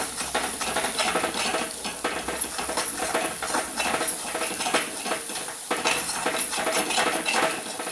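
Chingori amti masala is stirred and tossed in a cooking pot with a metal utensil, giving a continuous run of clinks and scrapes over a soft background sizzle.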